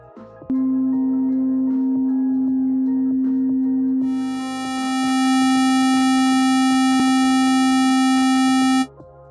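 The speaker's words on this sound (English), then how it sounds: "a sound wave transitions or changes into a square wave as more harmonics and frequency gets added to it" A steady pure electronic sine tone that abruptly turns harsh and buzzy, distorting toward a square wave as bright overtones pile on, holding loud for several seconds before cutting off.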